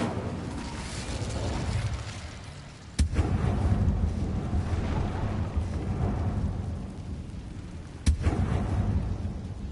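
Incendio fire spell cast in the Hogwarts Legacy video game, a roaring, rumbling blast of flame that swells and holds, with two sharp cracks partway through, loud and close without talk.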